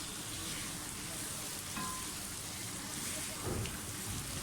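Onions frying for a spicy Karachi-style biryani, a dense continuous sizzle with crackling spatter, steady and close throughout with a few slightly louder pops.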